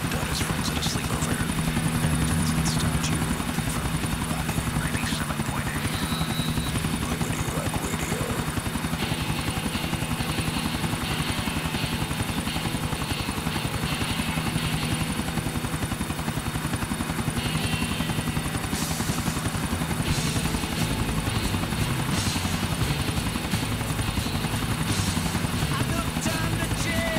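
A helicopter flies in the video game Grand Theft Auto IV, its rotor thumping and engine droning loudly and without a break, with voices talking over it.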